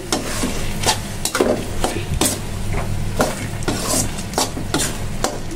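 Taro leaves being stirred in a pan, with repeated scraping strokes of a spoon against the pan over a steady low sizzle, close and fairly loud.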